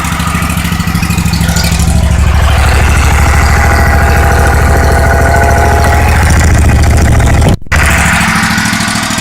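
An air-cooled overhead-valve lawn mower engine idles steadily and loudly up close, a continuous low throbbing hum with a brief dropout near the end.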